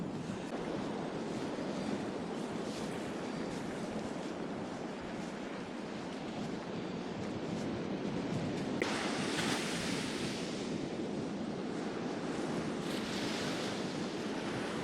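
Steady wind and breaking surf on a cold Fire Island beach, a dense continuous roar with gusts buffeting the microphone and the waves swelling louder toward the end.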